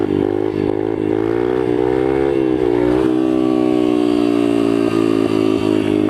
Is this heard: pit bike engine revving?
yes